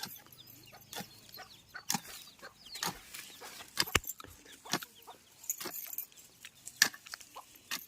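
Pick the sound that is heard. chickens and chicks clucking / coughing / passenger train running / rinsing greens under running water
chickens and chicks clucking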